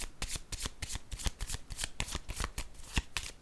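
Cards are shuffled close up for a card reading, a fast, regular run of crisp flicking snaps and riffles that carries on steadily with no talk.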